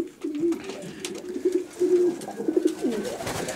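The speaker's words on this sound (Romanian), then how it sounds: "Aici porumbei" Racing pigeons coo in a loft, soft throaty calls repeating in a rolling rhythm, close by, with faint rustling around them.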